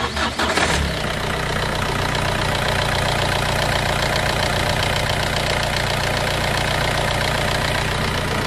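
A Ford Connect 1.8 90 HP engine cranks and catches, then settles into a loud, steady clattering idle that runs on evenly, heard close up in a repair shop.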